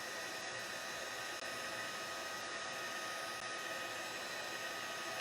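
Heat gun blowing steadily to melt embossing powder on a card, a continuous close, even hiss-like roar of air with no breaks or talking.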